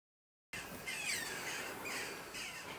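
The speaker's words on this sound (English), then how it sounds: "I have no idea if you guys can hear those birds" Birds call and chirp outdoors at a climbing spot, several short high squawks and tweets repeating over a constant hiss of background noise, moderately faint and with no voices.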